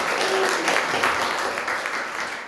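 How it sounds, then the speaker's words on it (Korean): A church congregation at a Sunday service in Gangnam claps together, a steady wash of applause throughout. "박수 한번 쳐주시고요."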